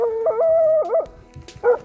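Pet dogs whimpering and howling in a drawn-out, wavering cry, then short yips and whines after a pause, close to the microphone with no talk.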